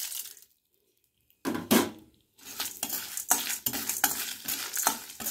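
Lentils fry in oil in a pan for a Turkey berry chutney. After a near-silent pause, bursts of stirring and scraping come in close over a crackling sizzle.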